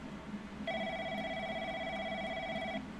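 A video game telephone gives one sustained electronic ring lasting about two seconds, clear and close against a faint low hum, with quiet gaps before and after.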